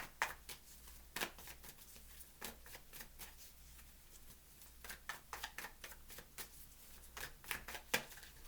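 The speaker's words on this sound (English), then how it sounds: "Two more shuffles" Tarot cards are shuffled close up in a quiet room, a series of sharp riffling bursts and soft flutters that repeat at irregular intervals.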